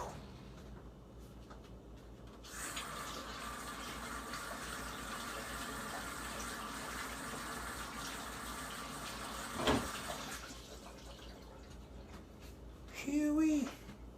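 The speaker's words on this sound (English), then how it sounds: "I gotta wash my hands" A kitchen tap runs in a steady, moderately loud stream for several seconds while hands are washed under it, then shuts off, with a short clatter and a brief squeak near the end.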